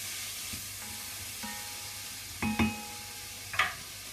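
Red onions and apricot garnish sizzle softly in a pan after a splash of white wine for an Easter lamb confit, with a low steady fry and a few sharper clinks of a utensil stirring against the pan.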